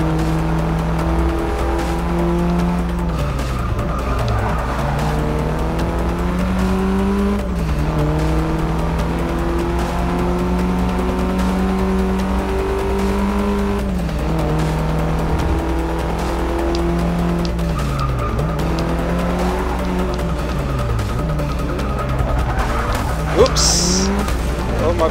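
Race cars roar around a track in the Forza Motorsport 6 racing game, engines climbing and dropping through repeated gear shifts with tire squeal, loud and continuous, while a person talks over the action.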